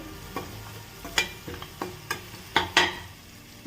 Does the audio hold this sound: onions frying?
yes